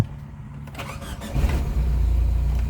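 A Toyota Tazz with a 2E engine cranks and fires up: a short starter whir, then the engine catches and settles into a loud, close, steady idle.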